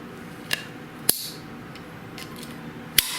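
Hose cutter clicking as it tightens down and cuts through a garden hose: three sharp, separate clicks spaced unevenly over a quiet background.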